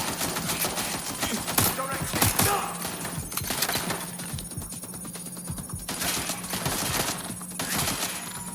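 Suppressing gunfire in the video game Watch Dogs Legion comes as loud, rapid bursts of automatic shots with sharp cracks, with some voices mixed in.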